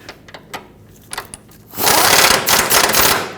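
A tool tightens bolts on the sway bar bushings of a 2011-2015 Kia Sorento. A few scattered clicks and knocks give way to a loud, continuous rattling whir close by, with no talking.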